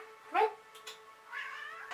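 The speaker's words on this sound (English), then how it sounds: "my cats are bothering me" A house cat lets out a short rising meow, followed a moment later by a second softer, drawn-out meow, both close in a quiet room.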